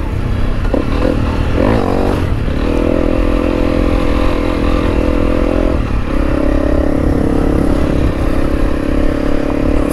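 Honda CRF300L motorcycle riding along a mountain ridge line, its engine droning steadily and loud with shifts in pitch as the rider changes gear, plus some rattling and clatter from the bike over rough ground.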